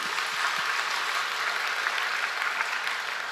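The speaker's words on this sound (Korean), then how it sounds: "우리 하나님께 영광의 박수를 올립니다." A church congregation claps during a Sunday sermon, a steady wash of many hands applauding together, even and sustained for the few seconds, with no voices over it.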